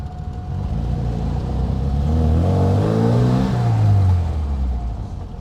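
A classic car engine revs up loud and close while pulling past a bus, its pitch climbing steadily then easing off over several seconds, with no talking.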